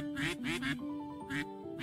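Cartoonish duck quacks from Penelope's ducks in the video game Pre-Odyssey: several loud, close, nasal honks in quick bursts, each a short stretch of sound with small gaps between them.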